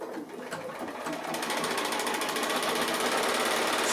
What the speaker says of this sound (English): stitching on the line again.